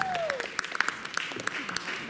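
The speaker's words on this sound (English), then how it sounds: "Keep that applause going for Murrugun the Mystic." Applause from a Fright Fest stage show audience at Six Flags America carries on at moderate level, scattered distinct claps over a soft crowd wash, with a brief whistle early on.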